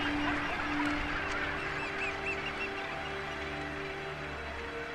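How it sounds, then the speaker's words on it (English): A colony of Cape gannets calls in a continuous chorus of harsh honking cries, several birds overlapping at middle distance above a steady wash of background noise. "it has a sizable colony of Cape gannets"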